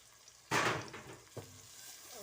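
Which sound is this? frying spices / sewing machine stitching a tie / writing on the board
frying spices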